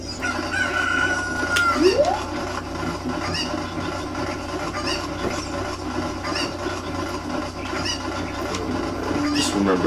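Cucco chickens cluck and crow in the video game The Legend of Zelda: Ocarina of Time, a steady farmyard layer of clucks with brief squawks and rising calls across the whole stretch.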